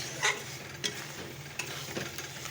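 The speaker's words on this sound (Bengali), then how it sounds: "রান্না হচ্ছে লাউ দিয়ে শুটকি মাছ" Bottle gourd with dried fish cooking in a pan, a steady low sizzle with a few sharp clinks of stirring, close and alone without talk.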